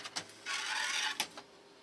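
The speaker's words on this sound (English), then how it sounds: "install ink cartridges that came with this printer, close scanner unit, initialization starts" An Epson WorkForce WF-3620 inkjet printer initializes after ink cartridges are installed and the scanner unit is closed, giving a few short mechanical clicks, a sustained whirring motor run, then further clacks and a fading hum, close and fairly quiet.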